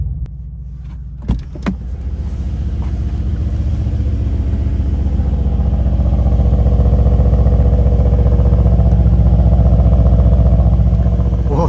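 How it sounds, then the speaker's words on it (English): A Mercedes-AMG C63S Coupe Final Edition heard from outside: a sharp clatter of startup, then the engine settles into a deep, loud, close burble that swells steadily and holds a throbbing rumble. "Let's hear what the car sounds like when you're outside."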